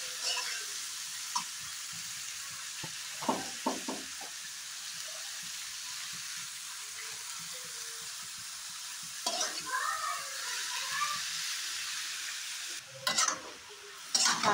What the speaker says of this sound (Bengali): অল্প দিয়ে একটু নাড়াচাড়া দিব, তারপর আবার আর একটু উল্টাতে আমি কপিটাকে ভেজে নেব